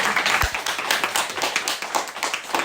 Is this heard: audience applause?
yes